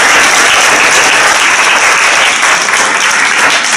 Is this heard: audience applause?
yes